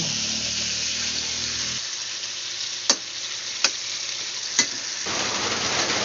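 Chicken pieces fry steadily in hot oil, a dense continuous sizzle with three sharp spattering pops partway through, close to the pan.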